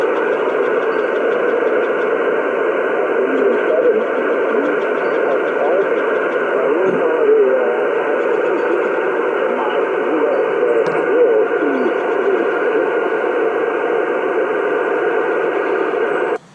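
A weak amateur radio signal during a park-to-park contact on a repaired dipole antenna, sitting right at the noise floor: a faint voice buried in a steady, loud band of static hiss that cuts off abruptly at the end.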